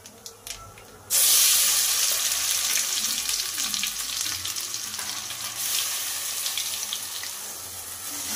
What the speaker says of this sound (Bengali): জিরেটা ভাজা হলে এবার এই বাটাটা এর মধ্যে দিয়ে দেব।